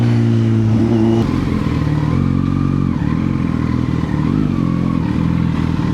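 A Kawasaki Z900 motorcycle engine runs loud and close throughout, a steady, heavy growl with slight rises in pitch like light revving.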